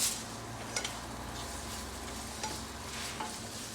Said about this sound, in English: So I just want to get my Vienna sausages browned, you know, nice and tasty.